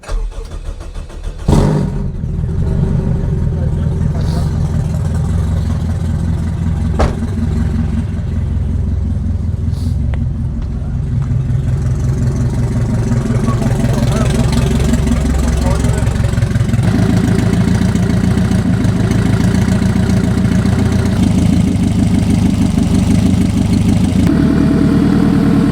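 A car engine fitted with a 90mm throttle body cranks and catches, then settles into a loud, steady idle that continues without letup for over twenty seconds, with a few brief clicks early on.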